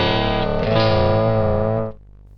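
A guitar runs through the Met preset of a Zoom 9030 effects unit and gives off a sustained, buzzy, resonator-like tone. It swells slightly, then cuts off abruptly, with no talking.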